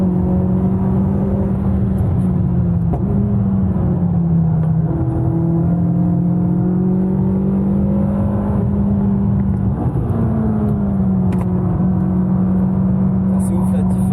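A car drives fast on the Magny-Cours F1 circuit, a steady loud engine drone heard from inside with shifting pitch as it accelerates and changes gear.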